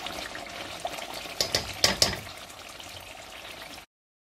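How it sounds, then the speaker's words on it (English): Corned beef stew being stirred in a pot over low heat, with a soft scraping and bubbling texture and a few louder clinks of the spoon near the middle, close and moderately quiet, with no voices. "we're going to give the stew a stir"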